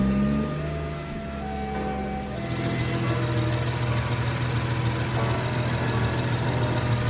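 A BMW M240i with a B58 engine and VR Performance intake idles after starting up, a steady low rumble with a faint mechanical hum, close and continuous with no talk.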